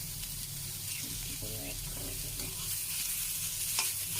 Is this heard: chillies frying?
yes